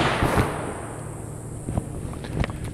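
A Mossberg Shockwave fires Aguila minishell buckshot at a target about seven yards away. One loud, sharp blast near the start rings out and decays, followed by a few faint clicks and knocks.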